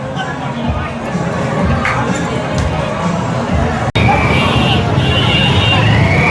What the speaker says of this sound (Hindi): लेकिन अभी आप भीड़ देखिए इस रोड पे, गांधी चौक से लेकर के नीलम सिनेमा चौक तक का जो ये भीड़ है